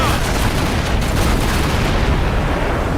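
A ship's swivel gun fires during a naval battle in Assassin's Creed Black Flag, one blast running into dense, continuous battle noise with no clear break.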